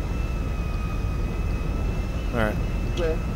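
A plane in the game GTA V flies with a steady broadband engine drone and a faint high whine running throughout, while voices chatter over radio on top.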